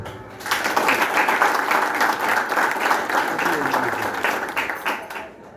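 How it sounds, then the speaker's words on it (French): An audience at a ceremony for an organisation's twentieth anniversary breaks into warm applause, a steady, full wash of clapping that holds for several seconds before tapering off. "Qu'il vous plaise de les applaudir chaudement"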